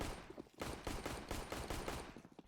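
Rapid bursts of rifle fire crack in a Counter-Strike match on the Nuke map at an ESL Challenger League esports event, with repeated loud shots in quick, uneven volleys.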